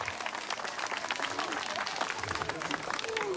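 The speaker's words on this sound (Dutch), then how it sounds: "Geef hem een heel hard applaus" Outdoor crowd at a birds-of-prey show gives dense applause after a bird's flight demonstration, a continuous clatter of many hands with some voices mixed in.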